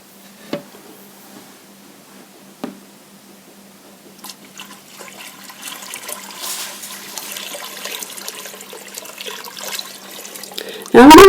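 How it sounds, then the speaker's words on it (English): Running clean filtered water streams steadily into a pot on a stove turned up to high for several seconds after a couple of sharp clinks, ending with a louder burst at the close. "add the clean filtered water"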